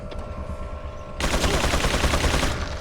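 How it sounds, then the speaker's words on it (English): Loud, rapid machine gun fire from an enemy in Resident Evil 4 breaks in after a quiet stretch and rattles on steadily for over a second before cutting off. "He's got a machine gun."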